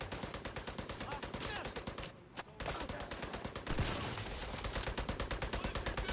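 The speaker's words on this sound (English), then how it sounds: "It feels like she's shooting me in the back." Sustained automatic gunfire rattles through a firefight in the game The Division 2, with rapid, loud bursts that drop out briefly for a moment, then resume with heavier shots.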